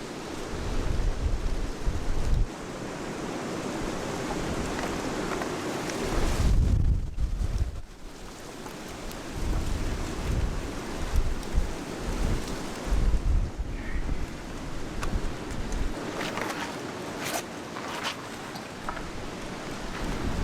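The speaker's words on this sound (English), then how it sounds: "It looks like there's a bit of a storm rolling in." A video game storm with steady heavy rain and wind, low rumbles of thunder rolling through at intervals, fairly loud and continuous with no voices.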